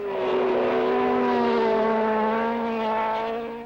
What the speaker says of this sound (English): Gurney has taken Hulme, and the Eagle's beak is pecking at no one's exhaust.